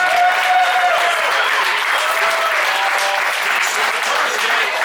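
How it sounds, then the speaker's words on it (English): Steady, loud applause from a crowd at a live football radio show event in St. Paul, Minnesota, continuous clapping without a break. "Round of applause for everybody who came out."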